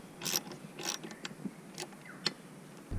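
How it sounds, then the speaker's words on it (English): A ratchet running 12mm bolts down on the fuel filter housing of a Landcruiser 200 Series, heard as quiet, close, irregular clicking bursts spaced through a faint background. "Now we can go ahead and run these bolts down."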